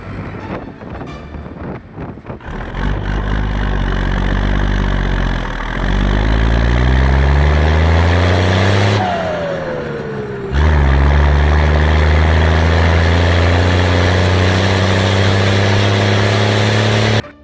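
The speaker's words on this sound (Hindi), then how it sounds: "और फिर मैं ट्रैक्टर और ट्रॉली को लेके चल देता हूँ घर की ओर।" A tractor pulling a trolley of harvested paddy rice runs on a road, its engine droning loud and close and shifting pitch as it revs and changes gear, with wind buffeting the microphone.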